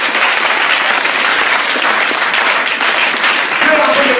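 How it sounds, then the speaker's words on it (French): A church congregation applauds together, a dense, steady wash of clapping that stays loud and unbroken from start to finish. "Acclamons."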